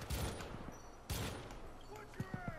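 Gunfire in the co-op shooter Syndicate: a loud burst at the start, another heavy volley near the one-second mark, then a few scattered single shots toward the end, with game effects and a player's voice mixed in.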